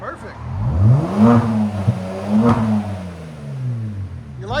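A 2018 Genesis G80 with a 3.3L twin-turbo V6 and muffler delete revs loud and close, two rising and falling throttle blips with turbo whoosh, under light talk.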